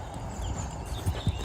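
Horse hooves in Western riding at a lope, a slow, easy gait: a few soft, muffled hoof thuds land in an uneven rhythm over steady outdoor background noise, with the final two beats the clearest.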